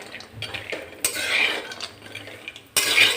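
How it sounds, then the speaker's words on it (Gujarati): A spoon scrapes and clinks against a pan as dry fruits are stirred and roasted in ghee over a slow flame, steady metallic stirring with louder clatters at the start and end. "સ્લો ફ્લેમ પર આપણે આ બધા ડ્રાય ફ્રૂટ્સને શેકી લેવાના છે"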